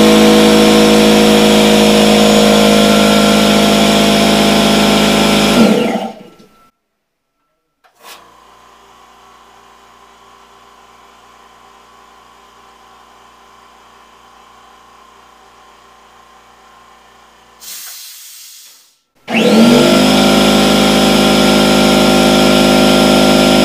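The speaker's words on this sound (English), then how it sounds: "the little pancake air compressor is a standard air compressor. This produces about 90 decibels of sound" A small pancake air compressor runs loudly and steadily, cuts out into a quiet gap with a faint low hum, then starts up again at full volume near the end.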